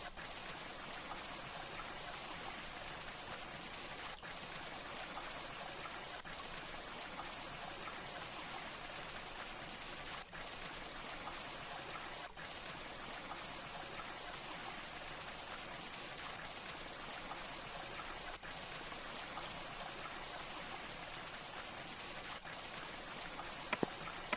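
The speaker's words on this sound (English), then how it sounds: "I love how the water like rocks, like waves, actually moves." Flowing water in the block-building video game Minetest, a steady hissing rush like rain or a stream that holds even and unbroken throughout, with no voices.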